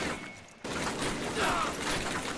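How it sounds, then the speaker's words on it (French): Covering gunfire in Call of Duty starts abruptly as a dense, sustained burst of shots and rattling that continues to the end, loud and close. "Tire de couverture"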